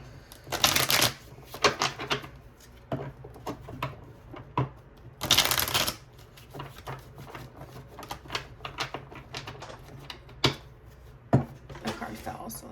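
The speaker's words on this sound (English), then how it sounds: "These cards aren't really wanting to shuffle." Tarot cards riffle and shuffle in bursts, with loud rushes of flicking paper between quieter handling taps, and a voice talking intermittently.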